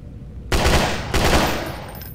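Gunfire in a horror video game: two loud, close, rapid bursts of shots in quick succession, each cutting in sharply and then trailing off into a short echo.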